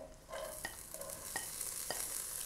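Chopped onion fries in a tablespoon of ghee for a samosa filling, giving a bright hissing sizzle near the pan, broken by a few sharp scraping stirs of a spoon.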